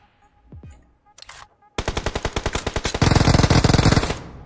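Uzi submachine gun fired in a video game, rapid sustained bursts of loud close automatic shots in a fast even rhythm, intensifying toward the end after a few brief game sounds.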